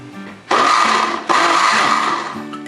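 Blender pulsing salsa with garlic and cayenne, two loud close whirring bursts of the motor back to back, the second following right after a brief dip, each winding down at the end.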